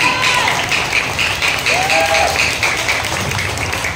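A church congregation applauding at a gathering in Baseco, Tondo, Manila, a loud sustained clapping that fills the whole stretch, with faint voices mixed in.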